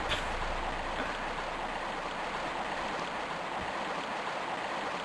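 A steady, dense rush of falling water from a waterfall in the Tomb Raider I Remastered game, continuous and close, filling the whole stretch without talk.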